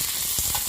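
Mustard seeds and urad dal sizzle and crackle in hot oil during Tamil-style tempering for kozhukattai upma, a steady close frying hiss with a few small pops.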